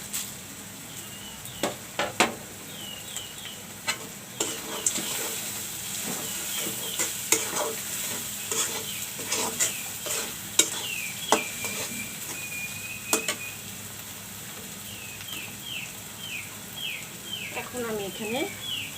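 Cinnamon, green cardamom, cloves and bay leaves sizzle in hot oil while a spatula repeatedly scrapes and knocks the pan. A person speaks, and birds chirp in the background.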